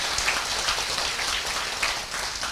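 A seminar audience gives steady, moderately loud applause, a dense wash of clapping that holds evenly without a clear peak or ending.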